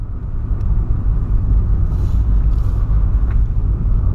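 A 2008 Volkswagen Polo sedan cruising on a quiet road, heard from inside the cabin as a steady, loud low-frequency road and engine rumble that holds constant throughout with no talking.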